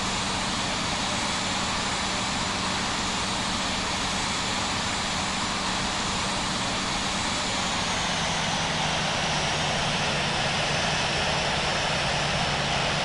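Jet airliner engines from a Delta Airbus A319 in the Infinite Flight simulator, a steady loud whine and rumble held at constant level throughout while taxiing to parking, with no talk.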